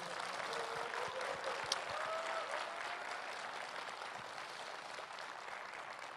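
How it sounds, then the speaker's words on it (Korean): Political rally audience applauding, a broad continuous roar of clapping from a large crowd that holds steady for several seconds, with faint voices mixed in underneath. "이럴 때 박수 한번 쳐주시면 안 되겠습니까?"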